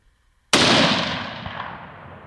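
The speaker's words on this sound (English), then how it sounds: "Shoot him again. Go ahead." A single loud rifle gunshot fired at an elk during a public-land elk hunt in Colorado cracks sharply, then its long echoing boom rolls away and fades slowly with no talk over it.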